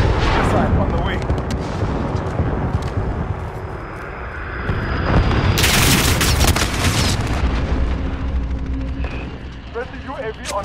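Call of Duty Ground War battlefield with aircraft engine noise, then a cruise missile strike hitting at close range as a loud burst of booming explosions midway, followed by scattered gunfire and battle noise with voices.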